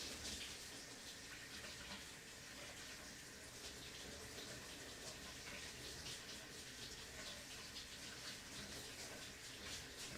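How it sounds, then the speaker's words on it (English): Cold water runs steadily from a tap over glass being rinsed, a continuous close hiss and splash that holds evenly throughout with no voices. "So I'm just going to run it under cold water."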